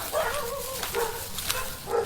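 Dogs bark in a chase scene of a Hindi audio drama, a few repeated mid-pitched woofs at a moderate distance with no talk over them.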